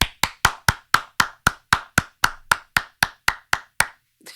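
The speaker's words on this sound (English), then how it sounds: "how many times can you clap your hands in 8 seconds?" A run of about fifteen evenly spaced, loud, sharp hand claps sounds close at a steady quick tempo, each snapping off cleanly, with no talking.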